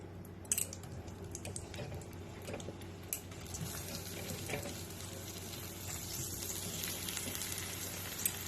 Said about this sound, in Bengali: এখন আমি এর ভিতর পনিরগুলোকে ছেড়ে একটু ভেজে নিচ্ছি হালকা করে